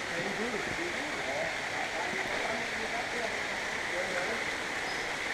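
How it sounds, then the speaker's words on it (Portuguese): A waterfall on a mountain-bike trail at Bom Sucesso fills the scene with a steady, broadband rush of falling water, constant and enveloping throughout, without breaks. "Essa aqui é a primeira cachoeira na trilha."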